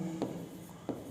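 Chalk or marker writing on a board during a time-and-work maths lesson: two short, separate scratchy strokes, fairly close, with a faint hum between them and no talking.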